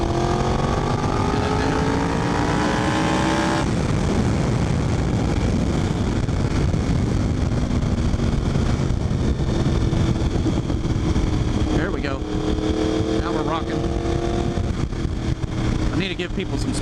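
A motorcycle engine drones loud and continuous during a group ride on the road, mixed with heavy wind rush and shifting revs, and a voice is heard over it.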